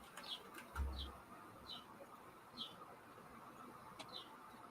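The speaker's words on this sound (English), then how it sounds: "He has birds nesting up under." Birds nesting up under a house window give soft, faint chirps that repeat at a regular pace, with faint flutters and a low thump in a quiet room.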